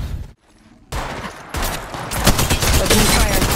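Rapid gunfire bursts out in a shooter video game squad fight, starting with a brief shot, then a pause, then dense sustained automatic fire building louder and nearly continuous.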